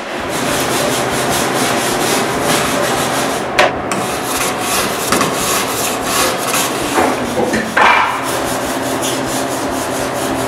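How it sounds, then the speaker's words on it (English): Wire brush scrubbing exposed wooden posts and beams in a timber shop mezzanine, a continuous loud, close scratchy rasp of rapid strokes with a few brief pauses and knocks. "When I'm finished, Renée scrubs almost all the exposed posts and beams with a wire brush."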